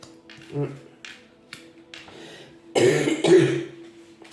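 Two harsh coughs close together near the end, after quieter breathy vocal sounds and throat noises.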